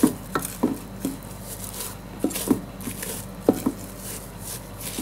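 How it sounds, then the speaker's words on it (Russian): Zucchini is grated in short rhythmic scraping strokes against a metal grater, close by, with brief pauses between bursts. "А я тем временем потру кабачки мои"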